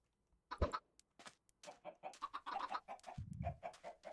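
Chickens clucking in Minecraft with the Techies Modpack, a rapid series of short, close clucks and bawks running continuously for several seconds with no talk over them.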